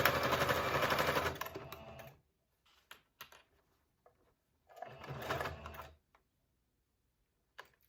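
A sewing machine stitches a waistband onto a half circle skirt in two bursts of rapid mechanical whirring, the first about two seconds long and the second shorter, separated by quiet clicks and handling noises.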